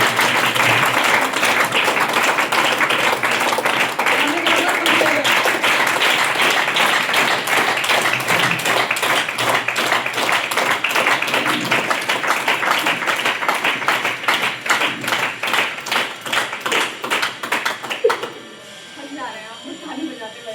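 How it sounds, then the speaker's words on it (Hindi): A large audience applauds with steady, dense clapping as a woman is welcomed onto a stage, the noise holding loud for most of the stretch before dropping off sharply near the end as a voice begins. "आप सभी जोरों शोरों के साथ तालियों के साथ मैम का वेलकम और स्वागत करेगा"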